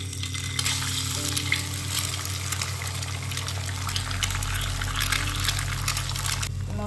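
Egg and Maggi noodles sizzle in a pan with a steady, dense frying hiss, alongside a low constant hum and a rushing, watery texture that grows stronger toward the end.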